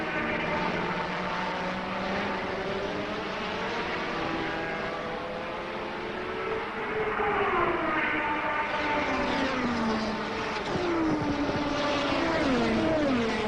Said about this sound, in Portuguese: Aí na subida, usa toda a força do seu motor BMW e ultrapassa Mauro Baldi.